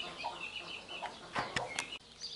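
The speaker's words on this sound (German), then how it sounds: "Junge Hühner und junge Entlein." Young chickens and ducklings peep in thin, high chirps, quiet and scattered over a faint background, with no talking.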